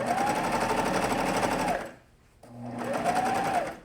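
A home sewing machine stitches a thick jersey neckline seam in two close, steady whirring bursts with a brief pause between them, no talk over it.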